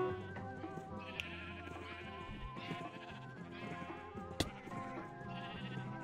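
Sheep bleat repeatedly in a Snake-style minigame, several wavering calls over busy game music with a sharp click near the end.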